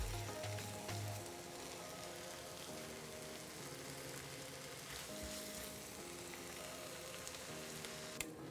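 Saag with tomatoes and spices sizzles quietly in a pan as it cooks down, a soft, steady crackling fry with a few faint clinks, close by but low in level, with no one speaking.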